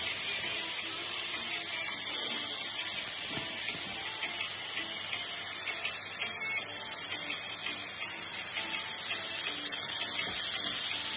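A salmon steak hisses in a hot grill pan, a steady, broad sizzle that holds close and even throughout without breaks.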